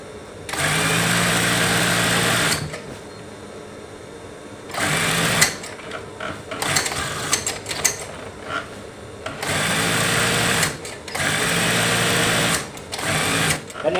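A sewing machine stitches elastic along the edge of a fitted bed sheet in loud, rapid bursts, several runs of a few seconds each separated by pauses with handling noise.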